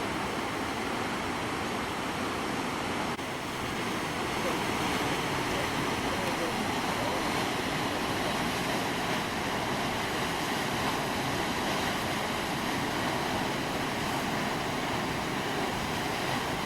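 The Rječina river runs high with floodwater, making a constant broad roar of rushing water that fills the whole scene without letup.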